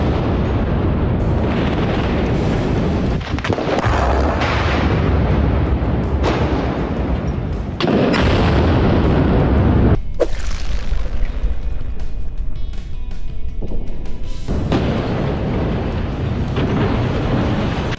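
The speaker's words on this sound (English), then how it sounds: "here's an American bridge blast, which of course necessitates more explosions and close-ups" Explosive charges bring down an American bridge in a demolition blast, a series of heavy booms and rumbling roars broken by brief quieter gaps, loud and dense throughout.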